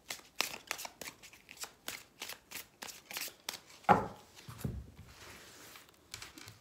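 A deck of tarot cards is shuffled up close in a fast, rhythmic run of crisp riffling snaps, followed by a louder slap of the deck and a few softer card shuffles.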